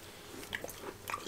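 Crisp bites into a crunchy little waffle snack from South Korea, a few quiet, sharp crunches scattered across a short span and ending in a louder crunch, with no talking.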